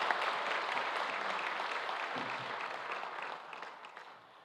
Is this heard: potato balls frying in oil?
no